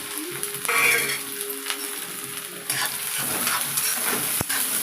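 Onions drop into four spoons of hot oil and fry with a close, steady sizzle, broken by a few stirring scrapes and a sharp clink near the end.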